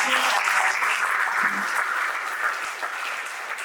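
Sustained audience applause fills a hall after a powerful inspirational talk, steady and dense clapping that stays loud throughout and tapers only slightly toward the end.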